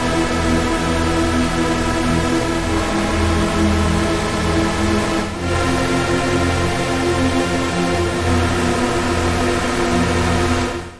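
A dense, buzzing synth pad from Vital with a ring-modulated oscillator drones steadily with a metallic, dirty edge, briefly dipping midway before holding on alone.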